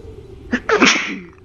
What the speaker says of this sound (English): oh, think I'm gonna sneeze.